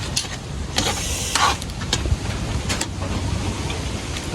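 Strong wind gusts across an outdoor spot, a constant rushing roar with occasional brief sharp bumps and flutters, fairly loud and close, with no talking.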